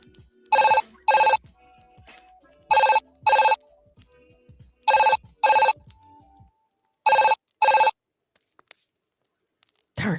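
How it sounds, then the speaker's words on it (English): A telephone rings in four pairs of sharp electronic trills with quiet gaps between, while faint voices murmur in the background. "There's a phone ringing."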